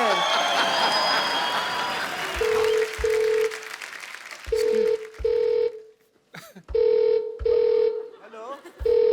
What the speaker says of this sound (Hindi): हेलो हेलो फोन आ रहा है